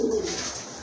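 A pigeon, one of a pair of domestic pigeons, gives a brief, soft cooing call close by, heard alone.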